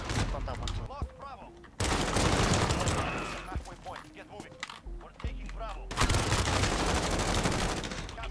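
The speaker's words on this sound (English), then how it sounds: "Nice, good grenade." Grenade blasts and rapid gunfire in a team shooter video game, loud dense bursts that stop and restart, with players talking over the clamor.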